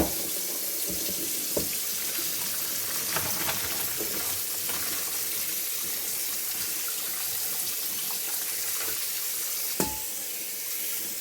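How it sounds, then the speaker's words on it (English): Cold tap water runs steadily into a kitchen sink over drained lasagna noodles, a continuous close splashing rush with a few small clanks of handling, no talking. "let's put some cold water running down in here"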